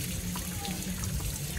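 Water runs steadily outdoors, a constant rushing wash with no pauses, fairly close and moderately loud.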